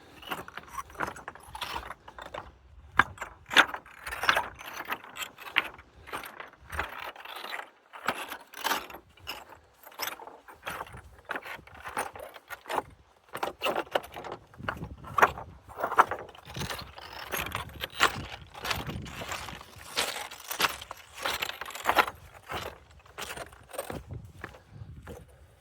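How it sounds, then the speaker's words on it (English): Footsteps crunch across a pile of loose rocks on a hiking trail, the stones clinking and grinding against each other in varied, almost musical pitches, in a steady walking rhythm heard up close. "It's like almost musical as the rocks rub against each other, and they have different pitches"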